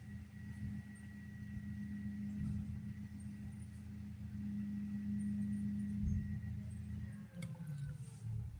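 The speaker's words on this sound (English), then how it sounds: "I've got a trash truck running outside and it's very loud." Trash truck running outside, a faint, steady low engine rumble heard from a distance through a wall, continuous for the whole stretch with slight swells.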